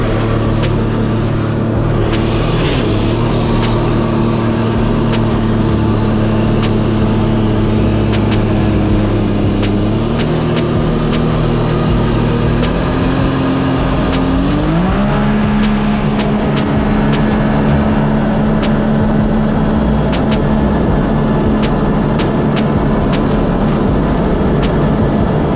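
Turbo Sea-Doo with a Stage 1+ 325 engine on a full pull, a loud continuous whine climbing in steps as it accelerates, then holding a high steady drone with faint repeated clicks throughout.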